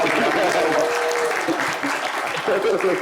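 A studio audience on a French live show bursts into strong, continuous applause after a song, a loud, dense clatter of clapping with a voice briefly rising through it.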